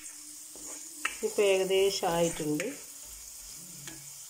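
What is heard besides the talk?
garlic frying in oil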